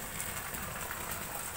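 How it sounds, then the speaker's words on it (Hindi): Steady, dense hiss of heavy rain pouring down, constant and enveloping with no voices. "बड़ी बारिश पड़ रही है।"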